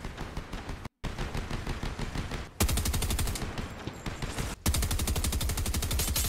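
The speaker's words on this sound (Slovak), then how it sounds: "Tu sa strieľa niekde." Rapid automatic gunfire from the Fortnite video game rattles in loud sustained bursts, broken by two brief gaps, with the final bursts harder and denser.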